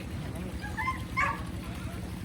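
A dog gives short, wavering howls at a farm where a field is being plowed, close and moderately loud over a low, continuous rumble.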